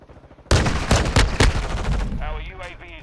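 Bruen .45 handgun fire in the Modern Warfare 2 video game: a quiet lead-in, then a rapid string of loud, close sharp shots, followed by a fading tail with a faint voice.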